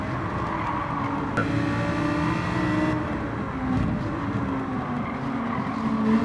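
Race car accelerating hard out of a corner in Gran Turismo 7, a loud continuous engine roar that rises and shifts with brief tire squeal, steady and close with no talk.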